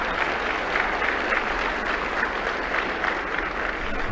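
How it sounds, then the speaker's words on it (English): Steady applause from a club luncheon audience fills the room, dense and even throughout with no voices standing out. "Let's give them a round of applause for Simmons Bank."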